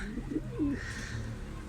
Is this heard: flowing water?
no